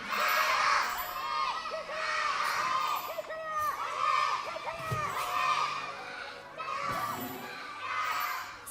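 Fans cheering in an esports arena during a League of Legends Asian Games final between China and South Korea, a loud sustained roar of many shouting voices rising and falling in waves throughout.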